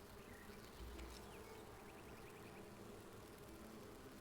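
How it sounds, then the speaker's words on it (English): Bees buzz steadily in the video game Enshrouded, a continuous insect drone around a newly built house with a roof and door, with faint chirps and ambience layered above it. "evidently I have bees"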